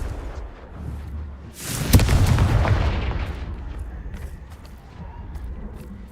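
A Confringo explosive spell goes off in Hogwarts Legacy with a single sharp, loud blast that booms, then rumbles away over several seconds amid game background noise.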